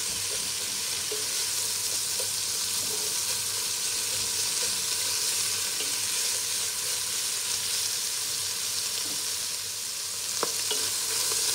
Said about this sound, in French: Je les ai mis dans un feu fort, dans de l'huile chaude